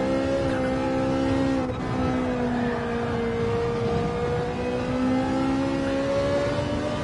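A turbocharged race car in Gran Turismo 7, fitted with a high-rev turbo and detuned to 70% power, holds a loud, steady engine drone that rises slowly in pitch without a break, with no talking.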